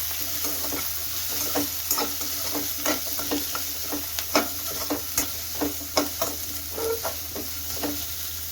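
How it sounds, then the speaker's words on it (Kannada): Onions frying in a pan for paneer butter masala, a continuous sizzle broken by rhythmic scraping strokes of a spatula stirring them, close and clear with no talking. "ಈರುಳ್ಳಿನ ಸ್ವಲ್ಪ ಫ್ರೈ ಮಾಡ್ಕೊಳ್ಳೋಣ."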